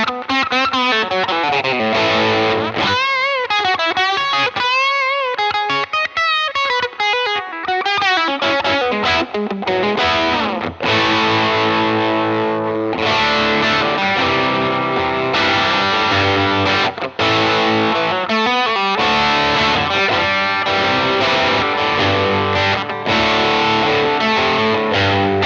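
Electric guitar driven through an overdrive pedal, comparing a boutique Cornerstone Colosseum with a budget Electro Harmonix Soul Food, plays loud, sustained distorted chords and melodic lines continuously with no talking.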